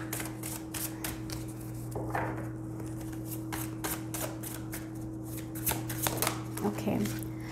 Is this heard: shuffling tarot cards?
yes